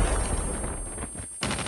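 Gunfire in Call of Duty with the M4 rifle, a dense, loud burst of rapid shots that fades briefly and then resumes sharply near the end.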